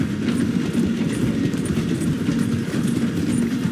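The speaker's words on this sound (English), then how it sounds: "The train is slowing down to go through the station." A train rolling along in Red Dead Redemption 2, a loud, dense, steady rumble of wheels and carriages with rhythmic clatter throughout and no speech.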